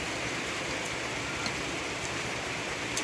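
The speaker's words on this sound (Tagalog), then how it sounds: "Malakas yung ulan." Steady, dense rain hisses evenly throughout, a heavy downpour with no voices over it.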